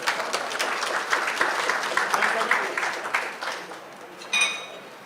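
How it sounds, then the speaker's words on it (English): An audience at a women's empowerment event in Bangkok gives a round of applause for the sponsors, a steady crowd clapping that swells then tapers off, with a faint clink toward the end. "Give a big round of applause for all the sponsors"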